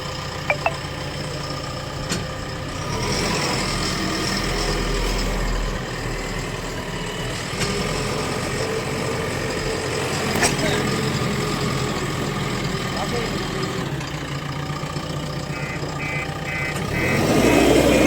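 A vehicle engine runs steadily on a farm, a continuous low rumble with a slight rise near the end, while people talk over it.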